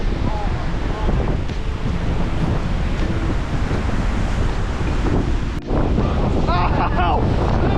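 Strong mountaintop wind gusts of around 60 km/h batter the microphone in a continuous, loud roaring rumble, with a brief dip partway through before the buffeting surges back.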